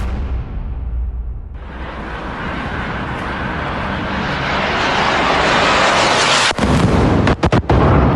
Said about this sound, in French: Des explosions, des détonations entendues à Dubaï et à Doha